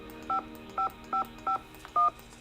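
Touch-tone phone dialing inside the Nancy Drew game Secret of the Scarlet Hand: five clean, evenly spaced DTMF key beeps at moderate volume, the last slightly louder and longer, over a faint steady background hum.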